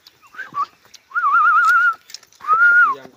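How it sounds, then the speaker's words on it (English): A cattle herder whistles outdoors to halt his cows, a few short calls and then two long, warbling whistles, loud and close, with no talking. "when I whistle, that means I stop the cows from going"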